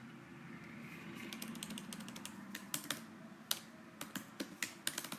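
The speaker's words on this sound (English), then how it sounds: "I'm going to type in answer number 3." Keys on a computer keyboard are typed in short bursts, individual clicks growing sharper and more spaced toward the end, close and fairly quiet over faint room noise.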